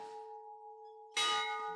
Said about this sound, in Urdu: گھنٹی کی آواز میں جو درد ہے اس سے ظاہر ہوتا ہے کہ ضرور کوئی فریادی آیا ہے